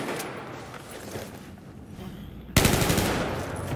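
Sustained machine gun fire in the shooter Battlefield 4 during a Conquest match on Operation Locker, a dense rapid stream of shots that grows suddenly louder and closer partway through.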